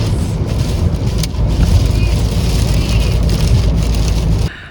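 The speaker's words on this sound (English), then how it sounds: "It is pouring rain. It's storming." Heavy pouring rain during a storm drums steadily and loudly, a dense continuous wash of sound close by that cuts off abruptly at the end.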